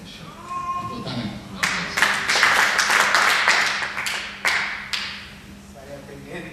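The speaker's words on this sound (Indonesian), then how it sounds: "Tepuk tangan." Congregation clapping hands at a church service, a burst of applause-like claps building over a few seconds and then tapering off, with a few sharp isolated claps near the end over a low background murmur.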